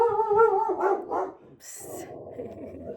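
A dog barks indoors in a few loud bursts early on, followed by a brief high whine and then quieter background noise.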